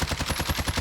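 An assault rifle in Warzone fires at long range: a quick, evenly spaced burst of roughly ten sharp shots in under a second, loud and punchy.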